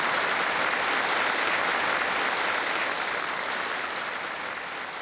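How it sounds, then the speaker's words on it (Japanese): Sustained applause from a large audience at a Japanese municipal fire service 45th anniversary ceremony, a dense, even roar of clapping filling the whole stretch and easing slightly toward the end, with no clear voices. "その元気いっぱいな子どもたちの姿に会場全体が喝采を送りました。"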